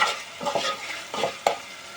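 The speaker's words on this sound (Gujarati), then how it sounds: "તો હવે આપણે એને હલાવી નાખશું અને હવે ઘડીક આપણે આને ટમેટાને આપણે સડવા દઈશું" Tomatoes cooking in a pan for a sea fish curry are stirred with a utensil, giving a few close scraping strokes over a soft sizzle, with a sharp clink near the end and no voices.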